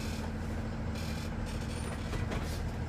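A bus's air brakes being applied while the bus slows, heard as a steady hiss and rumble under a running diesel engine with brief bursts of released air, no talk.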